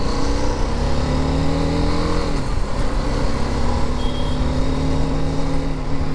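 A 2020 BMW G 310 GS BS6 motorcycle engine pulls hard and continuously during a test ride, a loud droning tone that drops briefly as the revs shift, with strong wind rush throughout and no talk.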